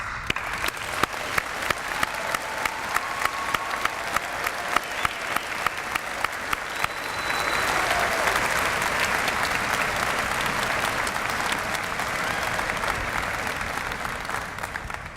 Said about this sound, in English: acknowledge the tremendous achievement of our graduates with a round of applause